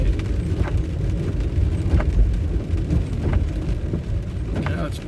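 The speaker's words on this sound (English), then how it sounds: "Now it's pelting down rain." Heavy rain pelts down at night, a dense steady wash with scattered sharper drop hits and a low rumbling undertone, continuous throughout.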